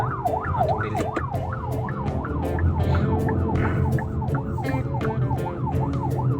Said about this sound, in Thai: ทั้งหลังเฮามีอัมบูแลนซ์เดี๋ยวจะได้หลีกให้รถ กู้ภัยก่อน